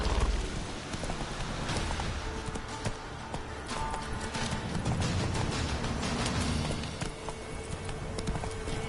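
Roach, a horse in the video game Witcher 3, gallops with rapid, continuous clip-clop hoofbeats, close and fairly loud over faint rain-like background noise.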